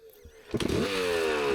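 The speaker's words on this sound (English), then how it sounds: "his bike is idling lower than usual and causing him to stall more frequently" A motorcycle engine idles low and uneven during a trail-riding training session, sputtering after a quiet start, then revving into a rough, rising drone, close and fairly loud.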